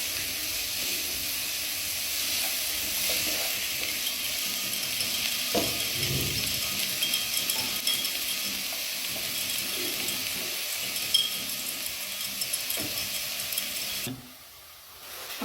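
Onions frying in oil in a pan, a steady close sizzle and hiss running without pause, with a few soft stirring knocks, then dropping off sharply near the end.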